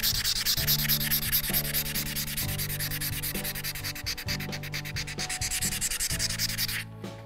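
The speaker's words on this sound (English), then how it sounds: "And the sanding part's a little messy too." Sanding a stained PRS guitar body: a continuous loud abrasive rubbing with rhythmic back-and-forth strokes, close up, with no talk.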